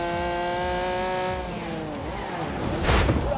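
A 5-litre V12 car engine in The Grand Tour Game video game, loud and close, revving with a falling then rising tone as it shifts and accelerates, with a brief screech of tires near the end.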